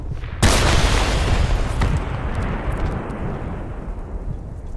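A close grenade explosion in the military shooter Project Reality, one sharp heavy blast that rolls into a long, loud rumbling decay.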